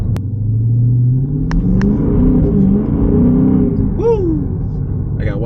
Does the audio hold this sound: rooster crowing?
no